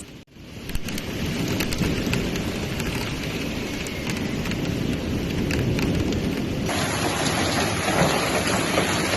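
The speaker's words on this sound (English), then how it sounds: "storms expected for this Wednesday to orange level until 8 p.m. throughout the region, with hail exceeding 2 centimeters" Heavy rain pours in a dense, roaring wash during a hailstorm with thunder in La Rioja, Spain, loud and unbroken, with deep rumbling underneath and no talking.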